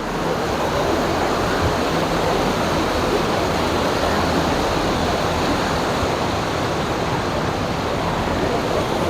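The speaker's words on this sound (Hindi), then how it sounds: "और वो आ रहा है पहाड़ों से पानी" Rushing water of a mountain stream on the trail from Gangotri to Gomukh, a steady loud broadband roar that stays constant throughout with no voices.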